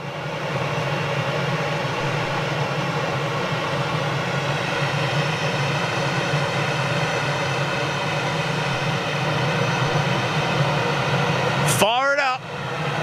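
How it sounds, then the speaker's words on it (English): A Swiss Airbus A220 that has just landed gives a steady, loud jet engine whine and roar for most of the time, then a sudden rustle near the end. "these guys are beautiful little Swiss A220 just landed"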